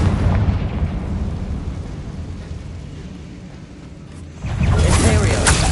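A Confringo blasting spell goes off in Hogwarts Legacy with a loud, rumbling explosion boom that fades into a low roar, then a second burst of crackling blast noise near the end.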